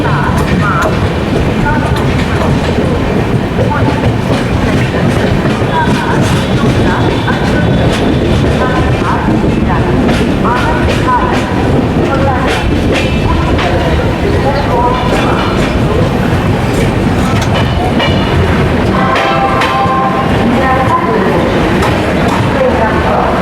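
The 12875 Neelanchal Express pulls away from the platform with a loud, continuous rumble and rhythmic clickety-clack of wheels over rail joints, plus occasional squeals. Someone speaks over the passing train.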